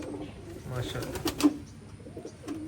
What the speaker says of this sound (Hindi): माशाल्लाह यहाँ पर आने के बाद कबूतर ना एक्चुअली में दिख रहे हैं